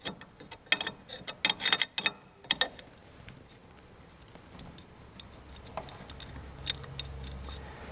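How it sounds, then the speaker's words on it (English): A ratchet wrench loosens the two nuts on a Triumph Spitfire Mk1/Mk2 rear brake adjuster, with rapid clicking bursts in the first few seconds followed by quieter handling and faint mechanical rattles. "Once we remove the two nuts"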